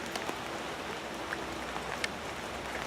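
Steady rain falls continuously with a dense, even hiss and occasional sharper droplet ticks, fairly close and without any voices.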